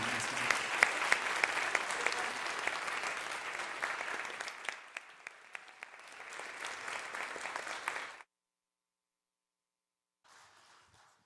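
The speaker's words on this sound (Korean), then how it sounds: "선교사님 환영하는 마음으로 하나님께 감사하는 마음으로 박수로 모시도록 하겠습니다." A church congregation applauds steadily for about eight seconds, the clapping easing toward the end before stopping, followed by silence and a faint brief patter.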